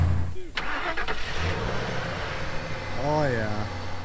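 A Ford F-150 pickup truck's engine starts and settles into a steady nearby idle, while people talk over it.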